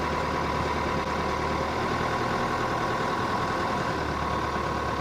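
Steady, loud low rumble of a yacht engine with constant vibration and wind buffeting, continuous throughout with no speech over it.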